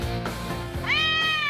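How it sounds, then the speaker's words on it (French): A cat meows clearly and loudly in a large warehouse hall, one long drawn-out cry rising near the end, with no talk over it. "Adam et Jamie vont tester leur talent sur les chats"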